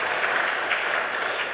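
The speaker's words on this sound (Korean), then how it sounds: "우리 박수로 환영하겠습니다" A church congregation applauds to welcome a visiting pastor during a Sunday service, the clapping a dense, even patter from many hands that holds steady for a brief moment.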